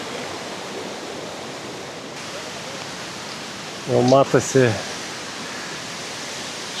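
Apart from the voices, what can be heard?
waterfall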